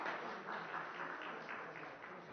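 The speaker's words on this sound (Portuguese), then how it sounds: "Eu peço mais uma salva de palmas para o senhor Afonso." Faint, steady applause from an audience for Mr. Afonso at a book event, a dense wash of many hands clapping at a distance with no clear pauses.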